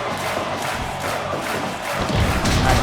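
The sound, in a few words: crowd cheering at backyard wrestling match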